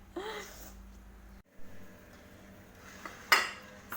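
A clay tajine pot is handled in a home kitchen in a few brief knocks and scrapes, with a sharper ceramic clink near the end. A voice is heard faintly in the background.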